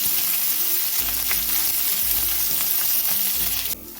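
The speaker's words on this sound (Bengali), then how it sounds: "একদম ক্রিস্পি করে পাতাগুলো আমি ভেজে নিলাম" Neem leaves crackle and sizzle in hot white oil, a dense close frying hiss with light stirring throughout, cutting off sharply near the end; nobody speaks.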